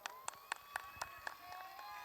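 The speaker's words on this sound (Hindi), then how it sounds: "जोरदार ताली के साथ भैया" Audience members at a folk cultural stage programme clap in a quick, even rhythm of about eight sharp hand claps, fairly faint and slightly distant, with no voices over them.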